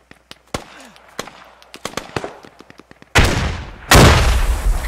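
Military shooter Squad combat: a crackle of scattered gunshots near and far, then two loud, deep grenade blasts close together near the end, each with a rumbling tail.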